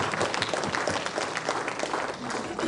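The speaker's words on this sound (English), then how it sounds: "Please, I think you should give a huge round of applause for each other," An indoor audience at a community event breaks into dense, sustained clapping, a steady patter of many hands close by with faint voices mixed in.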